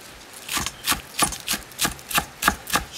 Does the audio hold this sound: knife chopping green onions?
yes